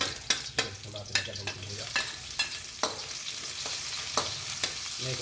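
Garlic sautés in a pan for monggo con pata, a close crackling sizzle broken by regular sharp scrapes and knocks of a utensil stirring against the pan.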